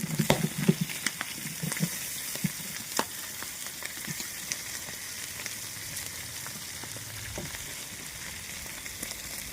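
Goat offal (boti) frying in a pan, a steady crackling sizzle with frequent sharp pops and spits, close and moderately loud, with a few soft stirring knocks early on and no talk.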